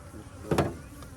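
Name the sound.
honey bees buzzing at a beehive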